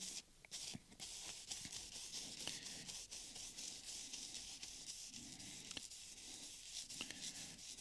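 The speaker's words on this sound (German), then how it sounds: "Wenn ihr dann doch ein bisschen reiben wollt mit dem Pad, dann immer in eine Richtung." A cleaning pad rubs a grimy, shiny leather steering wheel worn by 180,000 km of use, giving soft, close, steady scrubbing strokes in one direction with faint scratchy ticks and no talk.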